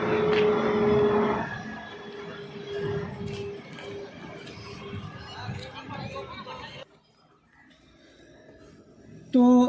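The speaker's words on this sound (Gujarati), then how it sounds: "તો એરપોર્ટ બાજુમાં છે એટલે પ્લેનની અવર જવર ચાલુ જ હોય છે" An airplane passing near an airport outside a hospital, a broad roaring engine rumble that fades gradually over several seconds, mixed with outdoor crowd chatter before dropping to near quiet.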